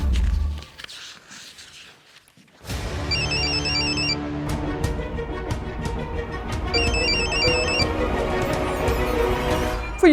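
A telephone rings in repeated electronic trill bursts over a background of music, following a quiet opening moment.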